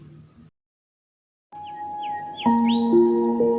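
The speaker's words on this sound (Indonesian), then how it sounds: "terdengar suara indah dari kicauan burung dekat rumah" Birds chirp near a house on a bright morning, short rising tweets breaking out after a brief silence over a steady tonal hum, clear and close.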